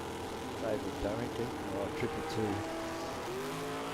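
A drag racing car launches hard at a state championship meet, its engine note climbing in rising harmonic sweeps at moderate distance, under an announcer's commentary.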